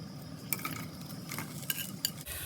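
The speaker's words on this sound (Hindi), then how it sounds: "ऑयल हमारा गर्म हो गया, हम इसमें डाल देंगे ये सारी प्याज।" Chopped onions frying in half a cup of hot oil in a pan, a continuous close sizzle with a few sharp clinks and scrapes of a utensil stirring, no voices.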